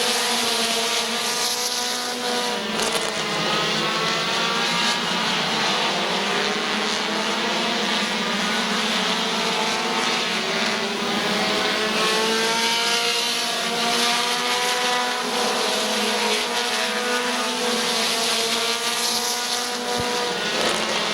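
Race cars roar around the oval at Midvale Speedway in a battle for the lead off turn four, a loud, continuous engine drone with rising and falling pitch sweeps as cars pass, filling the whole stretch without voices.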